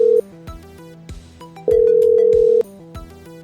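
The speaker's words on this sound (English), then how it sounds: "It's ringing." Telephone ringback on a call line: a long, steady ringing tone between shorter beeps, close and loud, with a faint low burble beneath and no talk.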